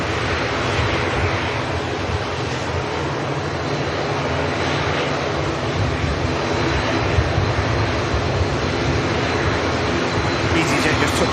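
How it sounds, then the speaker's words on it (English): An easyJet airliner touches down at Manchester Airport on arrival from Alicante, its steady, broad engine roar holding at moderate distance while a person talks over it throughout. "EasyJet just touching down from Alicante back to shop"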